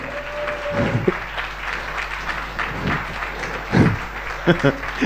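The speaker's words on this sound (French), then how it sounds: "On peut l'applaudir." Applause from a live music show audience, moderate clapping running under voices talking over it.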